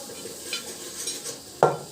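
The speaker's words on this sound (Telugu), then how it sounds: "ఇప్పుడైతే అక్క మటన్ కర్రీ చేస్తుంది, నేనేమో కలుపుతున్నాను" Mutton curry stirred in a pot in a village home kitchen: soft, continuous scraping and clinking, then one sharper, louder scrape near the end.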